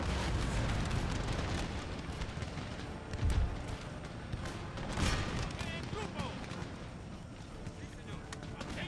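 Artillery booms roll through a gunpowder-era battle in Empire: Total War, with heavy thuds rising out of a dense, noisy battlefield din and someone talking over them.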